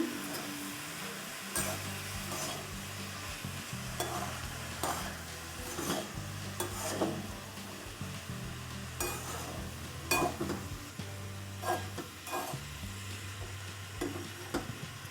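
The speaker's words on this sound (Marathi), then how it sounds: "शेंगदाण्याचं कूड घ्यायचं आहे दोन तीन चमचा मिक्स करूया" Peanut powder being stirred into a pumpkin vegetable dish in a pan, a continuous low sizzle under repeated rhythmic spoon scrapes and taps against the pan, close and without voices.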